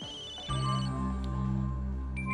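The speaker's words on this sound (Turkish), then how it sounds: "Telefonu mu çalıyor bunun?" A mobile phone ringing indoors in a Turkish family sitcom, a steady electronic ringtone with sustained tonal notes that starts abruptly after half a second and continues at moderate level, alone without talk.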